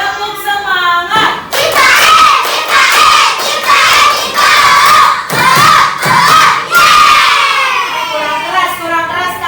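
Schoolchildren in an Indonesian primary classroom chant loudly together in a rhythmic clapping cheer, their voices and claps crowding close, starting after a brief quiet moment and swelling in repeated bursts.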